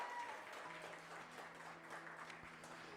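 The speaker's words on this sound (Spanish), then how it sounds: "dele palmas al Rey" A church congregation clapping together during a sermon, a steady dense patter of hands that continues throughout at moderate distance.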